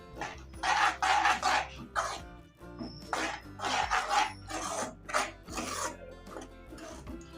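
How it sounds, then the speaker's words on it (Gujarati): A spoon scrapes and stirs yogurt in a pan for Kathiyawadi-style okra curry, giving repeated rasping strokes in an uneven rhythm, close and fairly loud with brief pauses between bursts. "હવે આ દહીંને આપણે પહેલાં બધું સરસ રીતના મિક્સ કરી લઈશું"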